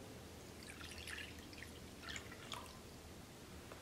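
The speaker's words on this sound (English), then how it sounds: "Now we get our 1 cup of water and put it in our bowl." A cup of water is poured into a bowl, heard as quiet splashy drips and trickles over a low background hum, fairly faint and brief.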